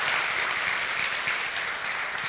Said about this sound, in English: Would you give them a big round of applause for all they're doing and going out and making a difference?